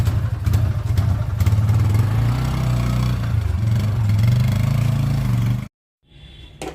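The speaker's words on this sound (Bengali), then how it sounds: "ও বাইক নিয়ে বেরিয়ে গেল" A motorbike engine runs close by with a loud, steady low rumble and chugging, then cuts off abruptly, leaving only faint background sound.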